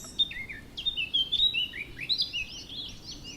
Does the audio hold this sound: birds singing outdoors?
yes